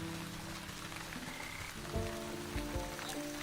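A frog croaks in the video game Wytchwood, a few short low croaks in the second half over a soft, rain-like ambient bed and game music.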